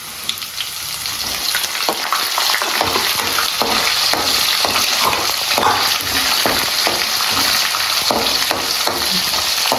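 Tomatoes and onions frying in a hot pan, a loud, dense crackling sizzle with repeated stirring scrapes running throughout, no voices.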